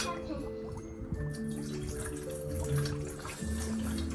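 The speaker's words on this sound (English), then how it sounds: "Can you pour the water into the pot?" Water being poured into a pot for candle making, a steady splashing trickle heard close under children's and a teacher's talk.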